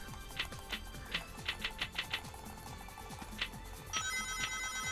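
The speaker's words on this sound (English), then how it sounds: "you can still hear the bloody pinball sounds" Bright ringing bell-like pinball chimes from the Casino Night level of Sonic Adventure DX, a rapid run of short repeated dings over busy game music and effects, fairly loud.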